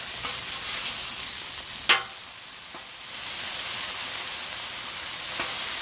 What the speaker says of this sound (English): Bacon's been on for about a minute or two. We're going to go ahead and flip it.